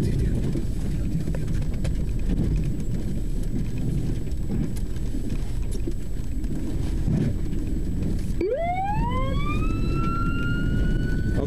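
A police car siren during a pursuit starts abruptly near the end and rises in pitch, loud and close over constant road and engine rumble.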